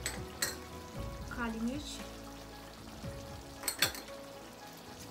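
Chicken karahi frying in a pan with spices and black pepper, giving a soft steady sizzle with a few stirring scrapes, under a speaking voice listing ingredients.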